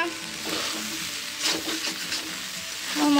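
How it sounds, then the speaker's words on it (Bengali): Flattened rice for chire polau frying and being stirred in a pan of oil, with a steady close sizzle and scraping stir strokes that swell briefly near the end. "তো এটা ভালো করে একটু ভেজে নেবো"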